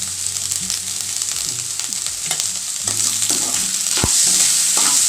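Salted onions fry in a pan while being stirred until browned, a loud close sizzle with busy scraping and knocking of the spatula that grows slightly louder toward the end.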